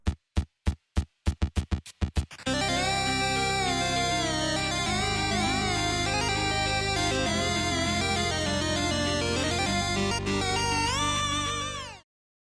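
A music track for a Homestuck scene opens with a run of quick evenly spaced plucked notes, then swells into a dense sustained synth arrangement with shifting melody over a steady low bass before cutting off.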